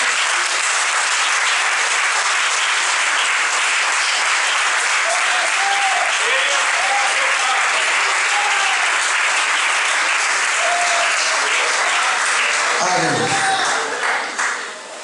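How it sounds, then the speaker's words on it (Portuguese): A church congregation at a missions pre-congress applauds loudly and continuously for the whole stretch, with brief voices and tones poking through the dense clapping. "Você pode dar uma salva de palmas para Jesus e tomar o seu assento."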